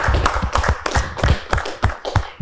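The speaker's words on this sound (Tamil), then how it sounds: "உங்களோட கைத்தட்டல்." Loud, close clapping from an audience at a fitness-themed Tamil television program, a fast, slightly uneven patter of many hands throughout.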